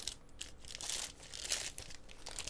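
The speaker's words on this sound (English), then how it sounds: "So let's pull it out of the plastic bag here." A plastic bag crinkles and rustles as a metal digital caliper is pulled out of it, with soft, close, irregular crackles and no speech.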